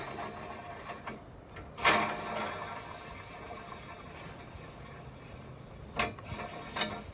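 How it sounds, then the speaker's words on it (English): A ladder carrier's spare tire handle spins onto a threaded cone at the wheel hub, giving faint mechanical clicking and whirring with two sharper ratchety bursts, the first stronger, against a quiet background. "You just start to spin your handle on."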